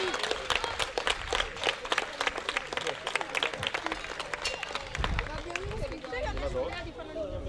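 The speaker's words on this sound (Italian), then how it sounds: "la squadra seconda classificata, un grande applauso per l'Atalanta." An outdoor crowd at a youth football tournament award ceremony applauds the second-placed team, steady scattered clapping with chatter and voices mixed in throughout.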